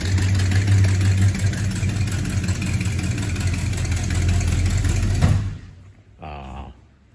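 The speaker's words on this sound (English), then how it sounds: "Leaky exhaust manifold." A Ford LTD engine with a leaky exhaust manifold idles steadily with a low, rough drone that cuts off abruptly, followed by a brief faint mechanical noise.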